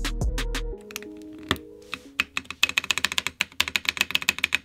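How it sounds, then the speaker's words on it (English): An AM 65 Less compact mechanical keyboard being reassembled: a low hum fades, then a few scattered plastic clicks give way to a quickening, steady run of crisp, close taps and clacks. "Now we put the keyboard all back together."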